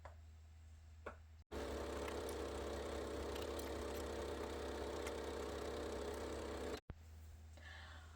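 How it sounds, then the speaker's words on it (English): A sewing machine runs a scant quarter-inch seam along the edge of a foldaway shopping bag, one close, steady mechanical whir of about five seconds starting and stopping abruptly between quiet handling. "now I'm going to take it over the sewing machine and use a scant 1/4 inch, so not quite a 1/4 inch, sew all along this edge"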